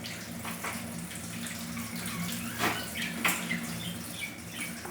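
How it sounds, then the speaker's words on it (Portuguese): Cold tap water runs steadily from a faucet over a bottle, a continuous close splashing rush with a few brighter spatters standing out briefly. "colocar essa garrafa debaixo de uma água fria, debaixo da água da própria torneira"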